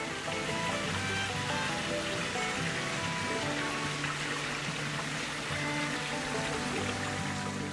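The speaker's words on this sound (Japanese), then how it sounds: "実はもっと水の量は多くてね、滝らしいです" Water rushing down a mountain stream and waterfall on Mitaki mountain in Hiroshima, a steady broadband wash that holds even and continuous throughout with no voices over it.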